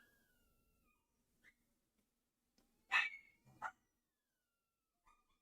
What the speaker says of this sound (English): The dog's losing his mind.